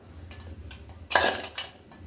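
Ingredients being mixed in a bowl: raw gobi with chilli powder, pepper powder and ginger-garlic paste, giving brief close clinks and scraping against the bowl, strongest in one short burst amid quiet, with no talking.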